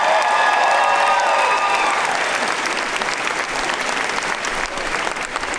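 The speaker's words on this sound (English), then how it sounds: "let's give a big round of applause to HBO for this" Large audience applauding and cheering at a Comic-Con Hall H panel for HBO, a loud dense wall of clapping that holds steady throughout, with faint whistles early on.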